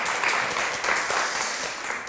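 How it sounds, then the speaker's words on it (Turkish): A studio audience applauds on the Turkish TV word quiz show Kelime Oyunu, a brief, even burst of dense clapping. "bir alkış daha isteyeceğim"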